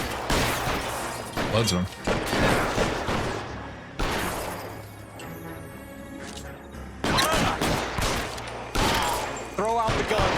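Gunfire in the video game L.A. Noire, heavy bursts of shots and crashing impacts filling the mix in loud waves, with people talking over the action.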